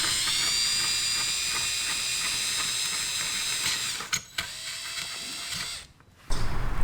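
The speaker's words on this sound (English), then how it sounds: "I was trying to drill two holes on this side in order to get our mounting screws in." Power drill boring screw holes through a BMW F30 front bumper to mount a carbon fiber lip, a steady whine running for about four seconds, then short bursts and pauses before stopping, close up with no talking.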